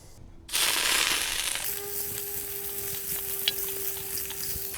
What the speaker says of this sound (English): we're going to see if we can cook some barbecued wings in the fire disc grill